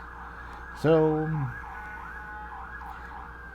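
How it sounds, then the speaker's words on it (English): An emergency vehicle siren on a city street blares loudly in one short burst, then continues as a softer, wailing siren that rises and falls in the background, with a brief spoken word near the start. "sorry for the sirens. It's a city after all."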